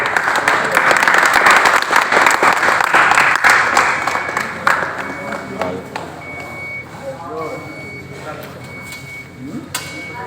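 An audience at an electric scooter launch claps in a dense, loud burst of applause that slowly thins and fades, with people talking over it as it dies away.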